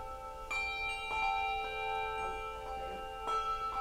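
Handbell being rung during a handbell lesson, several bright metallic strikes with long ringing sustained tones that overlap and decay, fairly faint in a quiet room.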